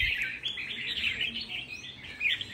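A red-whiskered bulbul songbird in moult gives quick, bright, repeated chirps and twitters, close and clear against a quiet background, with no talking.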